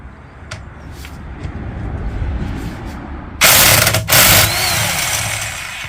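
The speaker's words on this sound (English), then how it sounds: "let's see if this impact can manage to do it, this impact wrench" A pneumatic impact wrench on a bolt of a Fiat 500 in a workshop, a quiet lead-in giving way to two loud, harsh rattling bursts of hammering, the second cutting in after a brief pause, close to the microphone.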